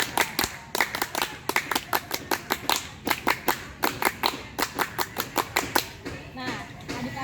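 A group of children at an outdoor Scout training camp perform the Scout clap twice, a fast patterned series of sharp, loud unison hand claps in rhythmic bursts, with a brief pause between the two rounds.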